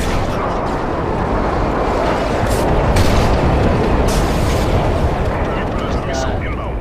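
Grenade launcher blasts in Modern Warfare 3 boom through a loud, continuous rumble of battle noise, with a few sharper bursts standing out over the din and no talk.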